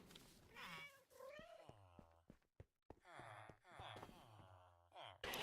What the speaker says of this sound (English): Ooh, another kitty.